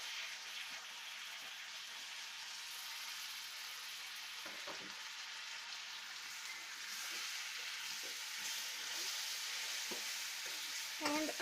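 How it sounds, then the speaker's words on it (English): Apples coated in sugar and cinnamon cook and caramelize in a pan, giving a steady, soft hiss of sizzling with occasional faint stirring clicks, quiet and continuous and free of speech. "I'm just gonna get them coated with sugar, kind of caramelizing it a bit"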